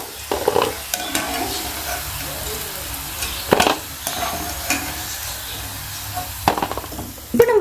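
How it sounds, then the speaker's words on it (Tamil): Pieces of leftover batter frying in oil, a constant sizzle punctuated by several sharp clattering stirs and scoops of a utensil against the pan, close and fairly loud, no speech. "இப்போ இதே போல் மீதி உள்ள மாவெல்லாம் ஃப்ரை பண்ணி எடுத்துகிட்டு வந்துக்கிறேன்"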